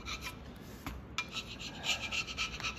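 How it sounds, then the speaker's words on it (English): A hand scraper rasps across the cast-iron top surface of a South Bend lathe carriage during restoration, making several long, close scrape strokes with brief pauses between them and no talking. "I'll do several long scrape marks on there"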